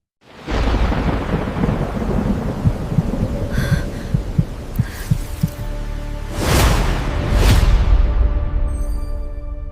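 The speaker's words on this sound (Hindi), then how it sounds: "रात का वक्त है और जोर बारिश हो रही है।" Heavy rain pours steadily at night with deep rumbling thunder, and two loud close cracks of thunder break through near the end. No voices are heard.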